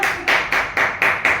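Audience claps in unison at a Bhojpuri song launch, six crisp rhythmic claps evenly spaced about a quarter second apart, loud and close.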